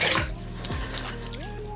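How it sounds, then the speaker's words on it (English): Running water rinsing off a face or razor after a wet shave, a close steady splashing flow with brief drips, while music plays faintly underneath. "Let's rinse off"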